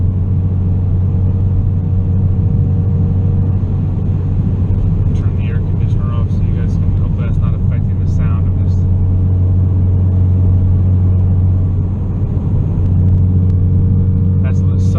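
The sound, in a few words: 2016 Ford Focus RS cabin drone, 6th gear at 70 mph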